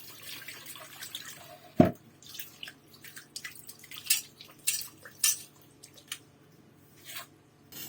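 Clean water trickles and splashes over a tawa griddle pan being rinsed in a sink, with scattered drips and one sharp clatter, quiet and close.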